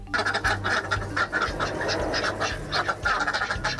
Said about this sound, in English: And we also have ducks on the farm now.